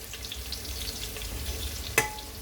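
Onions fry in ghee for mutton pulao with a continuous close sizzle and a light stirring rustle, ending in one brief sharp metallic tap from a utensil.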